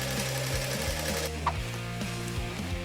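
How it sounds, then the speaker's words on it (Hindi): Sewing machine running in a cartoon, a fast rattling mechanical clatter with rhythmic stitching pulses throughout, loud and close, with no voices. "सिलाई मशीन मेरी मदद करेगी।"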